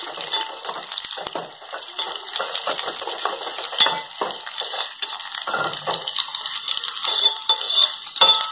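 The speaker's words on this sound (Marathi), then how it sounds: "दोडका तेलात छान असं भाजून घ्या." Chopped ridge gourd roasting in hot oil in a pan for a Maharashtrian dodka bhaji, a steady bright sizzle and crackle that swells and dips as it is stirred, close and loud, with no voices.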